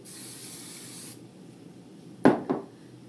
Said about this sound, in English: So you're going to want to coat with Aquanet first.